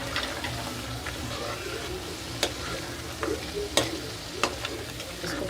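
Chicken curry frying in a pan gives off a steady soft sizzle, broken by occasional sharp clinks of a spoon stirring against the pan, at close range.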